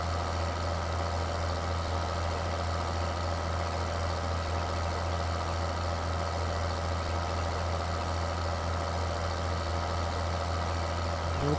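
A tractor engine in Farming Simulator 2013 drones steadily for the whole stretch, a loud, even mid-pitched rumble with no talk over it.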